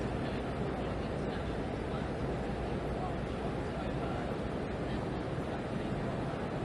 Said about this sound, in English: I think it's all the engine noise, is it?